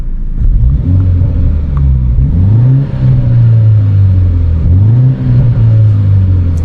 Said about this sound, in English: you can kind of hear a little bit of pop and cackle, but because it has a stock exhaust